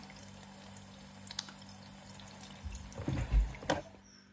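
Water pours out of a Worcester Bosch CDI Classic combi boiler into a large bucket below as a drain nut is loosened, a few splashes and drips building near the end of a quiet stretch.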